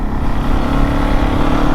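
Steady low rumble of a Fantic Caballero 500 single-cylinder motorcycle engine cruising through a village, continuous and fairly loud with no talking.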